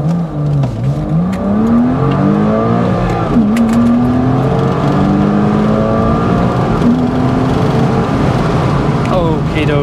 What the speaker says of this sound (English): Very soft launch, ready?